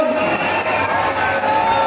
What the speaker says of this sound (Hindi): उदित जी के लिए जोरदार तालियां प्लीज